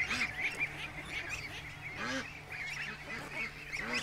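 Several geese honking and calling near at hand, overlapping nasal honks in an irregular chorus that never stops, loud against a faint steady background hum.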